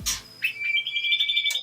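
A caged white-rumped shama (murai batu) gives a short, close series of clear, high whistled chirps after an initial rustle, loud and distinct against a quiet background.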